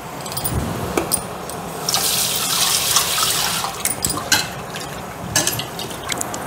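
Tap water runs and splashes as lentils (dal) are rinsed in a vessel for beetroot kuzhambu. The flow is loud and steady, with the sound of hands swishing the grains and knocks against the vessel.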